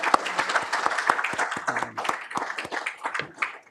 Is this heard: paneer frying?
no